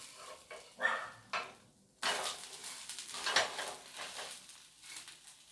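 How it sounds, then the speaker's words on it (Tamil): An ada dosai made with bottle gourd batter is flipped on a hot pan: a few spatula scrapes and knocks against the metal, followed by a soft sizzle and clatter, with no talking. "ஒரு பக்கம் நல்லா முருகலாக வெந்துட்டு இப்போ நம்ம அதை திருப்பி போட்டுப்போம்."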